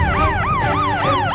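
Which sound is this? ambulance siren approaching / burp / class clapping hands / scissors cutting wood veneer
ambulance siren approaching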